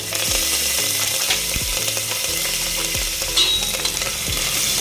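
Curry leaves sizzle loudly in hot oil alongside bay leaf for spiced masale bhaat rice. A dense, steady frying hiss runs throughout, broken by rhythmic scraping and clacking from a spoon stirring in the pan, close up and with no speech.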